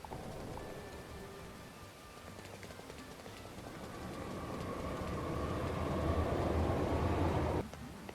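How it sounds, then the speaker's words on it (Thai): Rain pours in the life-simulation game inZOI by a riverside, a constant broad hiss that swells gradually louder before cutting off abruptly near the end. "เดี๋ยวเราหลบฝนแป๊บนึง"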